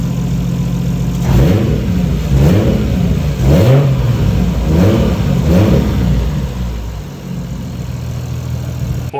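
Toyota 1JZ turbo engine in a Chaser running with no boost, idling loudly and being revved in five repeated rising blips before settling back to a steady idle.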